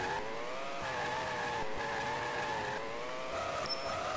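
Arcade top-down racing car in Micro Machines 96 on the Sega Mega Drive, a steady buzzy engine whine with wavering pitch as the car drifts and slides, loud and continuous with a brief squeal near the end.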